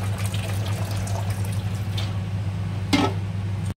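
Water pours from a jug into a pot during mutton Moradabad biryani preparation, a steady near splashing stream over a low hum, with a brief louder splash near the end before it stops abruptly.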